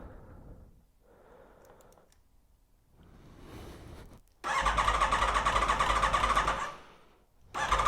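An Aprilia motorcycle with a history of starter trouble cranks in several short, breathy bursts. It then catches and runs at a loud, steady idle, dips briefly, and revs up again.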